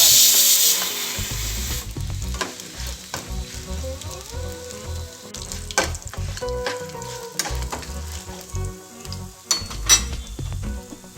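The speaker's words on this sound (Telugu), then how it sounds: "వేడైన తర్వాత ఎండుమిర్చి, ధనియాలు, మిరియాలు, ఎండు కొబ్బరి ముక్కలు వేసి ఫ్రై చేసుకోవాలి" Dry red chillies, coriander seeds, black pepper and dry coconut pieces frying in a hot pan, a steady close sizzle broken by scattered stirring scrapes and light clinks, with no talk.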